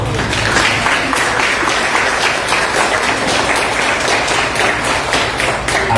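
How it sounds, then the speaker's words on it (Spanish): An audience at an Amazonian poetry event gives loud, continuous applause for a poet, dense clapping from many hands sustained evenly throughout and close to the listener. "a quien le pido ponerse de pie para regalarle fuertes aplausos"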